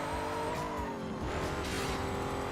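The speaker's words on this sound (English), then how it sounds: "You can hear the supercharger whine as it's going through the course." A heavily modified race car engine in Need for Speed Carbon roars steadily with a high, sustained supercharger whine riding over it, loud and close, with a brief tire squeal mixed in.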